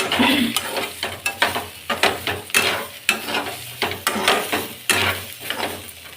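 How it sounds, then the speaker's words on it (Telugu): Bitter gourd fries in a pan, crackling and sizzling steadily while a utensil stirs and scrapes through it in repeated close, loud strokes, with no talking. "కాకరకాయ బాగా వేగితేనే బాగుంటుందండి, ఎర్రగా వేగాలి."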